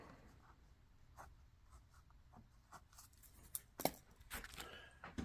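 A pen draws a seat outline during a 1935 Graham sedan refurbish, giving faint, close scratchy strokes in short bursts, with quiet pauses and a slightly louder run of strokes near the end.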